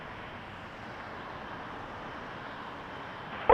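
A Boeing 777-300 airliner at Toronto Pearson Airport produces a steady, broad jet engine roar at moderate distance, holding constant throughout with a brief louder bump at the very end.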